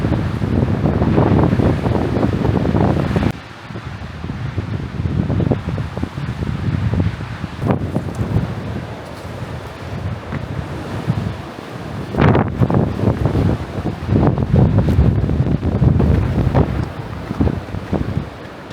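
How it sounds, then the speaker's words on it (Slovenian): Strong mountain wind on Nanos above Podnanos, near Vojkova koča, buffeting the microphone with loud continuous low roaring rumble, gusting and dropping briefly, with no voice over it. "Zdaj bom verjetno bolj malo govoril, ker toliko piha"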